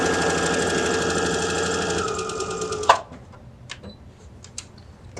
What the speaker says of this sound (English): This time I'm just going to continue sewing.